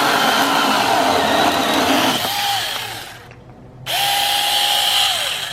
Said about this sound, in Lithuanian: tokias lentas pjauna lengvai, greitai